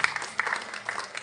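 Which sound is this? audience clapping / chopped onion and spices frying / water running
audience clapping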